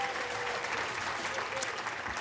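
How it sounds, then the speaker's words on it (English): Sustained applause from a concert audience at a tribute concert, a thick, even patter of many hands clapping at moderate volume with no pauses. "Let's give them a round of applause"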